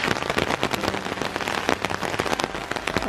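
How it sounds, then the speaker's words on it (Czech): Steady rain pattering on a surface outdoors during a cycling trip in the Balkans near Plitvice Lakes, dense and continuous with close, irregular drop hits and no talking. "Tak nám navíc teďka začalo pěkně pršet."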